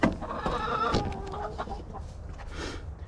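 Chickens clucking and squawking inside a straw-bedded chicken house, a dense, close flock chatter with a louder burst near the start and steady fowl calls throughout, no one talking.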